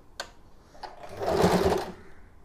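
Sewing machine stitching a shirt collar: a couple of brief clicks, then a short run of fast needle stitching that swells and fades, close up and otherwise quiet.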